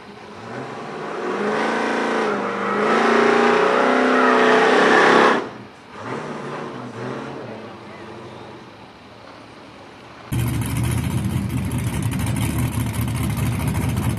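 A race car making a solo drag run on hard tires, its engine roaring loudly at first, then dropping away, followed by a sudden harsh blast of engine and crowd noise to the end, with voices heard over it.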